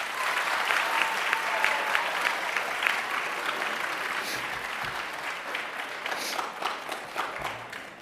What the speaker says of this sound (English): Students, please give your family and friends a round of applause